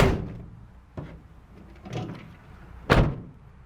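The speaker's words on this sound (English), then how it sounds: "and close the barn doors." Rear barn doors of a Vauxhall Movano wheelchair-accessible van swinging shut: a few thuds about a second apart, ending in a louder, sharper closing bang, close by with no talking.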